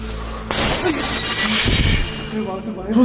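A bus window shatters with a sudden loud crash, followed by tinkling fragments while voices talk over the commotion.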